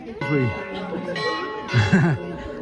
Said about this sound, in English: I'm interrupted by the bells again.